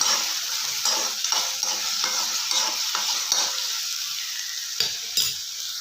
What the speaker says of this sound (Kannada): ಇವಾಗ ಚೆನ್ನಾಗಿ ಮಿಕ್ಸ್ ಮಾಡ್ಕೊಳ್ಳೋಣ.